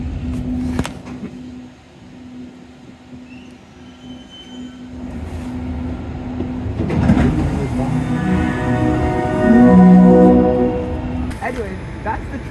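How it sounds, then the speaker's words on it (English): An automated driverless light metro train on Montreal's REM line rumbles and hums past at moderate distance, with a steady tone and rising mechanical noise, while people talk nearby. "they're automated light metro trains, which means that there's no driver"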